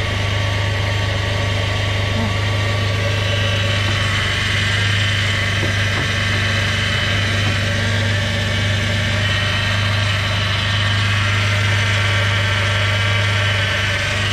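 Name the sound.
Jeep Liberty 3.7L engine idling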